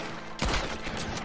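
Gunfire in Red Dead Redemption 2 during a shootout at the Del Lobo gang's Gaptooth Breach hideout: a sudden loud shot cracks after a quiet moment, followed by a few rapid trailing reports.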